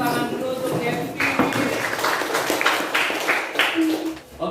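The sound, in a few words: classroom applause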